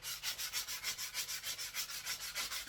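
Wooden flute from a pre-tuned kit being sanded with fine final-grit paper, a close, steady back-and-forth rubbing with an even rhythm of about four strokes per second, no talking.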